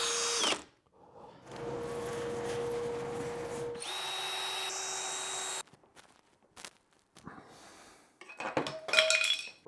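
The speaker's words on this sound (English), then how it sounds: "drilling nice, accurate, straight holes" A power drill whirs in several sustained bursts, boring holes in door material, stopping and starting, with small clinks and handling noises between runs.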